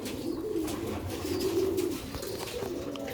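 Pigeons of a Sialkoti breed coo in a soft, continuous, low rolling murmur close by, with no talk over it.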